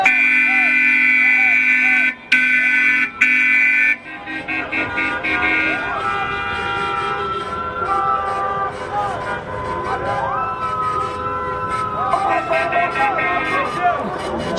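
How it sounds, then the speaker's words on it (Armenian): Car horns honk in greeting at a street protest on Mashtots Avenue, with a run of sustained blasts early on, then more scattered honks and traffic noise over steady crowd chatter and voices. "նրանք ազդանշաններով ողջունում են ակցիայի մասնակիցներին"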